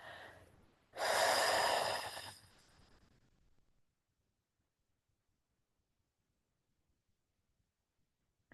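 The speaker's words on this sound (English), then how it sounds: "So, we're going to start with some box breathing." Close, loud breath through the nose and mouth during a guided box breathing exercise: a strong inhale rushing in, tapering into a softer long exhale, then near silence.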